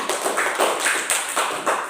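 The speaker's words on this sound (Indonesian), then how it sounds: "Iya, tepuk tangan." Classroom students clapping together in a brief burst, a dense run of sharp hand claps with small swells of rhythm, fairly close and steady with no talk over it.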